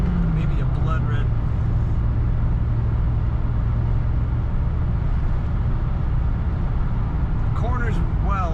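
A 1990 Chevrolet Corvette coupe drives and corners, a steady close engine and road rumble with a faint hum from the car, while brief bits of voice come through near the end.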